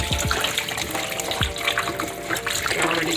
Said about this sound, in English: rinse them up again, guys.